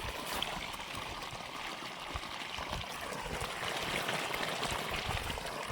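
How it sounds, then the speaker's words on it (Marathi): A solar-powered borewell pump on a farm pours water out in a steady, continuous rush that holds at an even level throughout, with no talking. "पाहू शकता अशा प्रकारे पाणी मारते"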